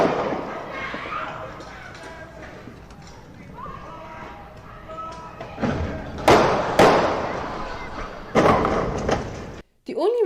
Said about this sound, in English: There is a lot of shooting going on right now.